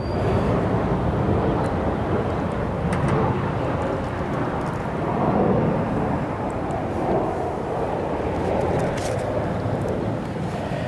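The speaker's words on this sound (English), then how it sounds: "We're going to be hearing airplanes pretty much all day." Airplanes passing overhead near Charlotte Douglas Airport heard from a church cemetery, a steady distant roaring rumble that swells gently and fades, with no talking.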